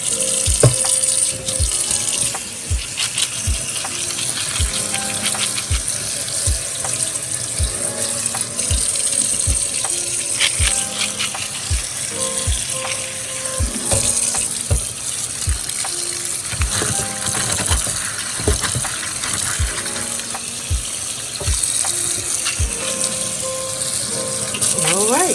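Great northern beans are rinsed under a running kitchen tap, with water gushing steadily throughout and beans rattling and knocking in the sink in uneven bursts.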